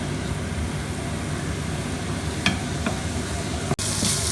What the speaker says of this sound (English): So meanwhile, as the onion is getting fried